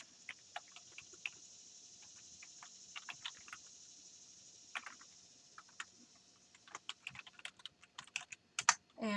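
Keys tapped on a computer keyboard while entering a password at a login screen, a run of quick, light clicks with short pauses, then a denser burst of keystrokes near the end, close and clear with no talking.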